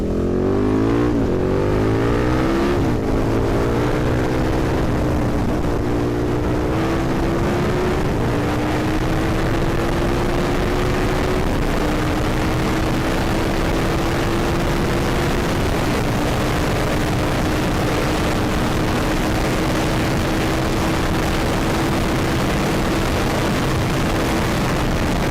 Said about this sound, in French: Bon allez, on va refaire une petite accélération.